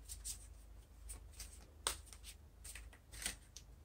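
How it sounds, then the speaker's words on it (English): Quiet, close tarot card shuffling: soft papery riffles and flicks in irregular bursts, with a few sharper snaps, over a low background hum. "My shuffles are very slow"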